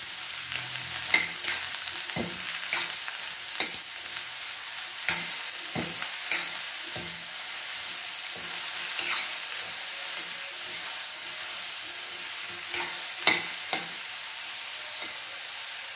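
Bottle gourd pieces sauté in a pan with a soft continuous sizzle, while a spoon stirs them with scattered clinks and scrapes, close and fairly quiet, with no talking.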